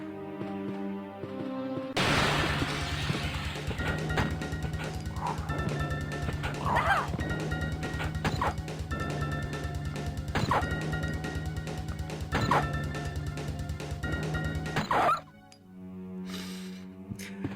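Zombie dogs bark, yip and whimper amid crashing hits in the Resident Evil game on Sega Saturn, a dense, loud sequence with a steady tonal game score underneath, ending abruptly before quieter sounds.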